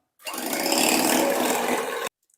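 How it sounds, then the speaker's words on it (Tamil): A hand beater whips eggless sponge cake batter until fluffy, giving a steady, loud whirring drone that lasts about two seconds and then cuts off abruptly, with no voices. "இந்த மாதிரி ஹேண்ட் பீட்டர் வச்சு விப் பண்ணிடலாம்"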